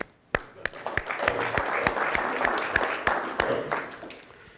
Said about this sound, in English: let's just take a second and just applaud